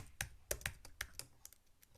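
Keys on a computer keyboard are tapped in a quick, uneven run of about a dozen soft clicks as a postcode is entered, close and quiet with no talking.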